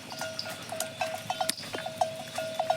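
Cows walk home in a line through a village at evening, their cowbells clanking in an irregular steady ringing nearby, with a few scuffs and knocks and no talk.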